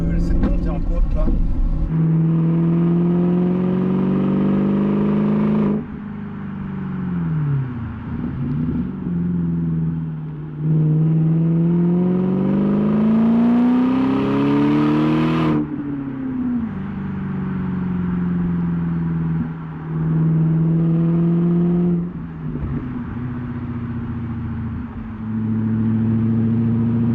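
A motorcycle engine labors and revs up a climb, pitch rising and falling through gear changes, loud and close throughout.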